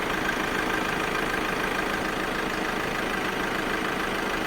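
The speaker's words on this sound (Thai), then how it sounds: "เสียงเครื่องยนต์เดินเรียบปกติ" A 2015 Ford Ranger 2.2 XLT Hi-Rider diesel engine idles smoothly, a steady, continuous rumble with no voices, close and even throughout.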